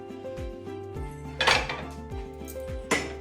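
A metal frying pan for an Andhra fish fry is set down and shifted on a stove, with a few close clanks and clinks against the hob, a sharp louder knock near the middle and another toward the end.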